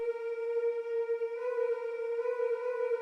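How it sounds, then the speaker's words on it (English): Omnisphere choir synth patch holds one smooth sustained tone with a faint shift partway through, soft and steady with no other sound. "So I'm just using choirs from Omnisphere"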